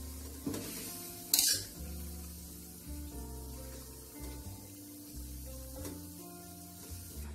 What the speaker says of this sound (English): Mix well, cook until wilted.